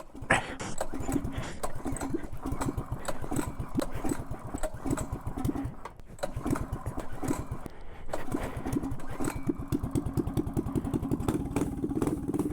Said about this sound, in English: let's see if this bike can start with the first pull